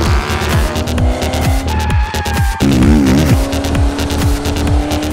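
A racing car at full throttle on a track, loud engine revving through rapid gear changes with rising and falling pitch and a squeal of tires mid-way, close and continuous throughout.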